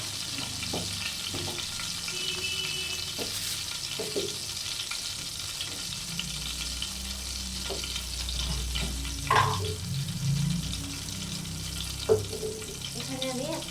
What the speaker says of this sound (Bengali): তো আমি আরেকটু তেল দিয়ে দেবো।